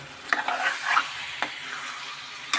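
Chicken gravy masala curry stirred in a pan, with a few distinct scraping strokes of a spoon against the metal over a soft background sizzle, close and clear with no speech.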